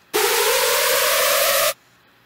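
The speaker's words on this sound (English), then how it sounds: "let's just pick screech number 18 over here" A hardstyle screech sample in FL Studio blasts as a harsh, distorted, noisy tone with a steady pitched buzz, lasting about one and a half seconds before cutting off cleanly into silence.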